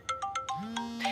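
A mobile phone ringtone plays nearby, a bright melodic electronic tune of several quick, evenly spaced notes followed by a rising sustained tone, with no voices over it.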